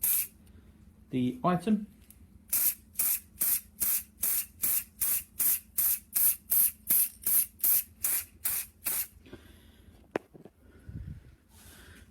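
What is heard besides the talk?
spraying vinyl dye onto an item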